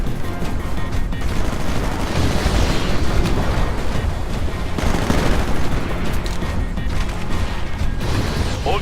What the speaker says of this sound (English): The turrets for this hardpoint are back online, and we are engaging the Red Eye